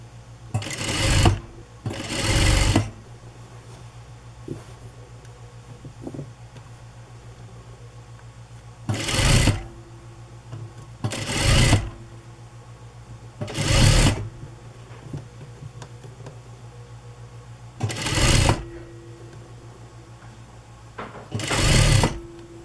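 A sewing machine stitches along the edge of a hem in repeated bursts of a few seconds each, separated by pauses, running close and steady with a faint hum in between.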